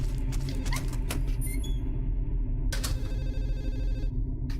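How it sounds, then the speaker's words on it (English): A telephone rings in the video game Silent Hill 4, bright trilling bursts repeating over a dense, low droning ambience, with a pause between ring bursts. "The one phone ringing is ringing in every single floor the same way?"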